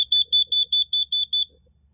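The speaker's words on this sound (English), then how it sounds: "This specific version, it should be doing 8 chirps when I push it" Carbon monoxide alarm chirping eight times in quick, evenly spaced high electronic beeps right after its test button is pressed, loud and close with nothing else audible.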